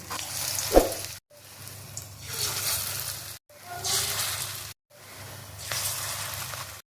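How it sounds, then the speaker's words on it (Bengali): Drumstick flower fritters sizzle in hot oil, a steady frying hiss in several bursts separated by brief silences, with a small clink near the start; moderately quiet and close, no talking. "এখন বড়াগুলো ভেজে নেব।"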